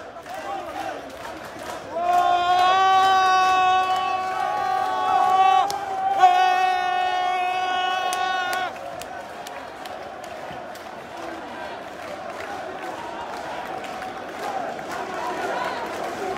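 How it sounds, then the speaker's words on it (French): Large crowd of protesters marching through Paris toward Place de la République, a broad steady murmur of many voices with a loud sustained chant or horn-like tonal burst rising over it for several seconds. "c'est une foule assez importante qui se dirige vers la place de la République"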